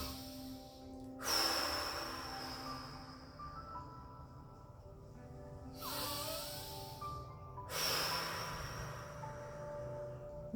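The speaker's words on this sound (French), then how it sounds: "Inspirez profondément, soufflez sur ce chakra." Three deep breaths during a guided meditation, each a long, slow, airy exhale with a softer inhale between, close and alone over a faint low background.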